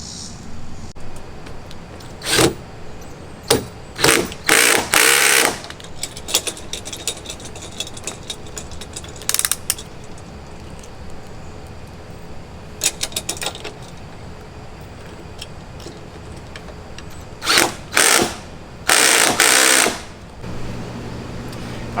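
Power driver or drill running in several short bursts with pauses between, driving metal screws with washers to mount side mirrors on a golf cart; close and loud, no talking.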